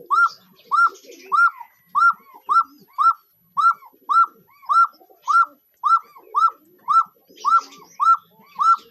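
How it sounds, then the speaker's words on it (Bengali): Loton pigeons cooing close by, a steady train of evenly spaced coos repeating roughly twice a second, with faint chirps from other birds in the background. "খুব বিখ্যাত কবুতর"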